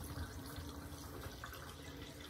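Water drains steadily from a washer holding a soaking mohair fleece, a faint, continuous trickling and gurgling with no talking over it.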